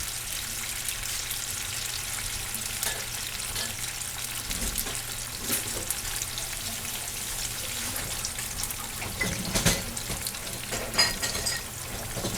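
Red chilaquiles sauce sizzles loudly in a hot pan, a dense, continuous crackling fry heard up close. Occasional stirring clatter and scraping rise above the hiss. No one talks.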